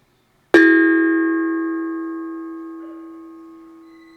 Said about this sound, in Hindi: जब मैंने घंटी बजाई, उसके बाद एक वाइब्रेशन हुई जो काफ़ी देर तक चलती रही।